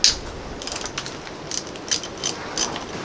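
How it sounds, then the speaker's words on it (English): A ratchet with a deep socket loosens the valve cover bolts on a Mitsubishi S3L2 engine in a Cub Cadet 7265 tractor. Several short bursts of quick ratcheting clicks come close to the mic, with brief pauses between bolts. "I'm just going to loosen all these bolts and keep up with them and not drop any on the ground."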